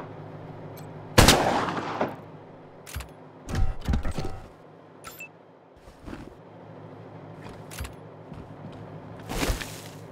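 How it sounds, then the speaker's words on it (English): Gunfire in the video game Wasteland 3, scattered sharp shots and bursts at irregular intervals, loud and close, with quieter gaps of mechanical clicks between them. "Shoot him in his little head."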